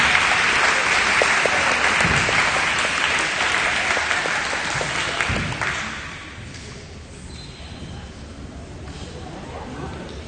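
An audience at a high school awards day applauds honor roll students, steady loud clapping for about six seconds before tapering into a few scattered claps and murmurs.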